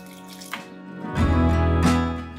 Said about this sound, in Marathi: थोडं थोडं पाणी टाकते मी